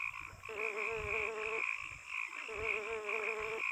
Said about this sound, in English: Let's go with these frogs first